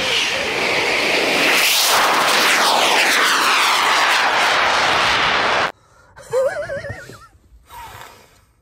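An airplane in an animated spy-comedy film roars loudly and steadily with a rising engine whine and sweeping pitch, then cuts abruptly to quieter sounds, including a brief wavering whinny-like cry.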